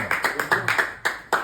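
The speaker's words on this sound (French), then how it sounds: "on va applaudir le duo formidable" Audience clapping for a live acoustic duo, heard as a run of sharp, distinct claps in an uneven rhythm, about eight bursts within a second and a half.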